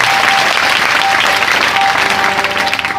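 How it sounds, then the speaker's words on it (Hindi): A church congregation applauds during a sermon, a dense, sustained burst of clapping from many hands lasting a few seconds and fading slightly at the end. "ताली बजाएं प्रभु की महिमा के लिए भाई।"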